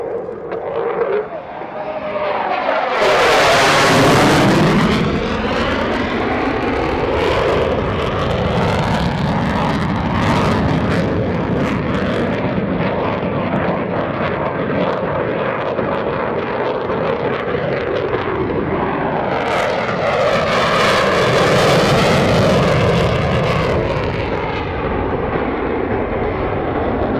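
An F-16CJ Fighting Falcon fighter jet at an air national guard open house airshow roars loudly and continuously as it banks into a tight 9G turn, the jet noise swelling and shifting in pitch while it passes near the crowd.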